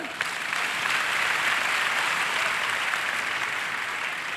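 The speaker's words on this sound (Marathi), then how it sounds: "टाळ्या वाजवायला तुम्हाला काही अडचण आहे का" An audience at a Hindu religious discourse breaks into applause, a thick, continuous roar of many clapping hands that swells early and holds steady before easing slightly.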